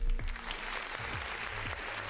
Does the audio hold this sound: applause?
yes